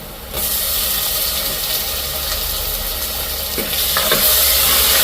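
Garlic and fenugreek sautéing in a home kitchen pan, a steady close sizzle and hiss with occasional stirring scrapes running throughout, no voices.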